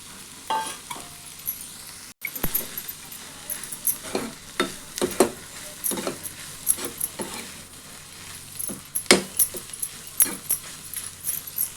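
Soya chunks sauté in a pan, cooked as a meat substitute, with a low continuous sizzle broken by repeated scraping stirs and clacks of a utensil against the pan.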